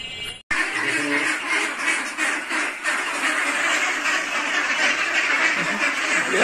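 Ducks quack among chickens in a village yard, a steady busy chorus of nasal calls running throughout after a brief silent gap at the start, fairly close and loud.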